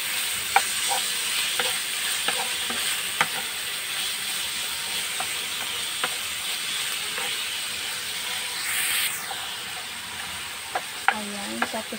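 Chicken and ginger sizzling in a hot pan, a loud continuous frying hiss with intermittent clacks and scrapes of stirring, a brief swell of steam near the end.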